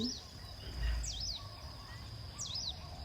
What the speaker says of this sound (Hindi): अलग अलग पंछी आवाज़ कर रहे हैं। मोर की भी आवाज़ें आ रही हैं